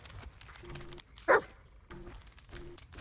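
A dog in the horror video game Blair Witch gives a single sharp bark, loud and close, within a forest ambience of low rumble and faint tones.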